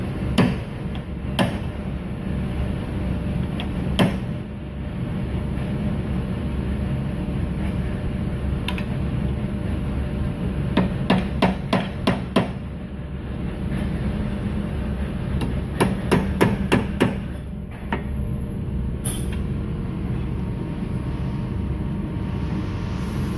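Sharp, close hammer strikes ring out in irregular bursts of rapid taps with pauses between, set against a steady low mechanical hum throughout.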